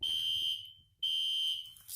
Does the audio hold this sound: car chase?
no